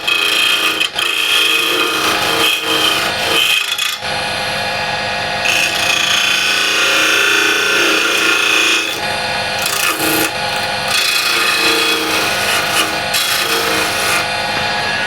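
A walnut burl blank held in a chuck spins on a woodturning lathe while a tool trues up its tenon, giving a loud, steady scraping whine broken by short pauses near one, four and nine seconds.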